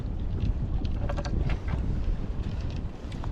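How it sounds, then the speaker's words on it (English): Paddle strokes in water from a Galaxy Kayaks Wildcat fishing kayak, steady splashing churn under constant wind buffeting the microphone, close and fairly loud throughout. "But I'm going to be paddling around like this."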